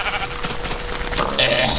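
Sheep in the video game Minecraft bleat a couple of times, fairly close and clear over a steady game background hiss.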